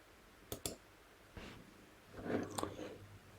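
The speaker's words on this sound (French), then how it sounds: "Donc, je clique sur rechercher." Computer mouse clicks while searching a doctor-booking website, two quick close clicks followed by a few softer scattered clicks, quiet and alone.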